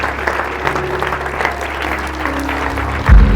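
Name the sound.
church congregation applause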